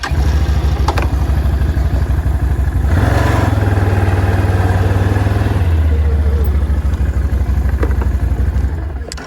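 A Can-Am Outlander XMR 650 ATV engine runs loud and close through its stock exhaust, a throaty clattering idle that swells into a sustained rev midway before settling back down.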